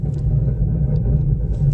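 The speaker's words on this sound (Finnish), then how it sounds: "aikamoinen jytinä kuuluu perästä kyllä nyt. Hirveä pauke." An old roller towed behind a car on a test pull gives off a heavy, continuous low rumble with faint knocks running through it.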